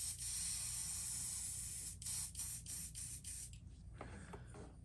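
A paint spray gun hissing thick paint onto a fishing lure in a steady, close, loud burst, broken by several quick pulses as the trigger is feathered before the spray tapers off.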